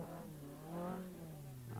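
A car engine revs hard while climbing a slope during a driving competition, rising and falling in pitch, sustained and faint at a distance, with no talking.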